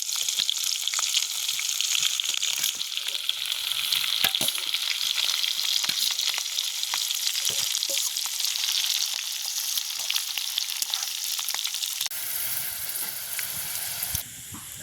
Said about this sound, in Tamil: ഞങ്ങൾ ഇറച്ചി മരക്കറിയെല്ലാം പൊരിച്ചെടുത്തിട്ടേ